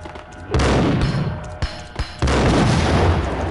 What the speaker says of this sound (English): All right, come on, I'll throw a grenade.